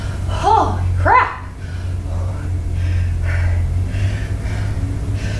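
Heavy, ragged gasping breaths from someone doing sumo squats in a sweaty home workout, two strong gasps early and then quieter panting over a steady low hum.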